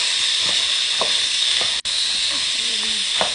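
Chickpeas frying in oil in a pot, a steady loud sizzle with the soft scrape of a spoon stirring them every half second or so.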